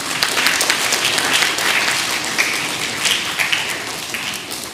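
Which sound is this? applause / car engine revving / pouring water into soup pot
applause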